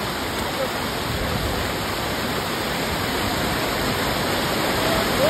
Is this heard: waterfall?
yes